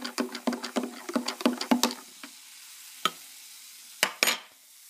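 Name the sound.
stirring Mountain Dew Voltage mixed with Pepsi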